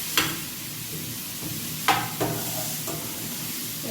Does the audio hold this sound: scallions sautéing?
yes